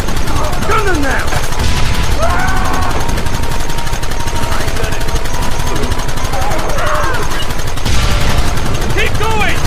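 Rapid bursts of gunfire crackle and rattle through a Red Dead Redemption firefight, loud and dense throughout, while voices shout over the shooting.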